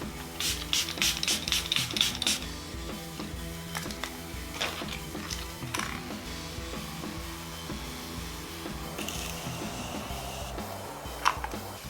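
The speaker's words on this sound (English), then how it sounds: "let's spray our face" A quick series of sharp bursts of makeup setting spray onto a face hiss close by, followed by quieter taps and rustles, then one last brief spritz near the end.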